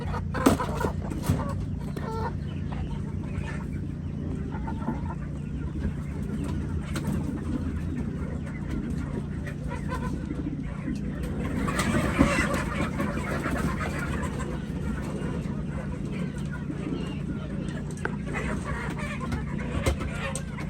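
Chickens cluck and murmur steadily close by, a busy flock of hens with bird calls rising and falling over a low background hum.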